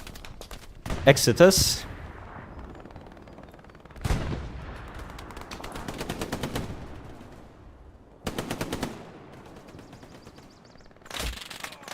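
Machine gun fire in a competitive multiplayer match, several loud rapid bursts of automatic shots separated by quieter gaps, with a voice speaking briefly between bursts.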